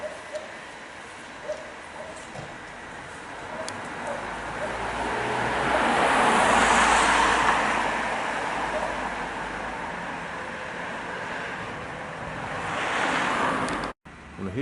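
Surf rolls in from the sea at Leigh-on-Sea, a soft hiss that builds to a broad swell and then fades, with wind buffeting the microphone and faint traffic in the background.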